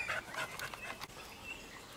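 Cocker Spaniel puppies make soft whimpers and panting close by, brief high squeaky sounds over a faint background.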